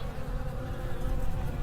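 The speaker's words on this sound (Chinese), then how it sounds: "这么多苍蝇！" A dense swarm of flies buzzes around a freshly dead body, a steady, close, continuous drone with no let-up.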